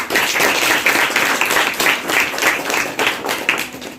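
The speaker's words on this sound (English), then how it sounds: "let us give them a big round of applause" Students in a classroom clap for their classmates after a group discussion, a steady round of applause with sharp individual claps lasting throughout, fairly close and alone without talk.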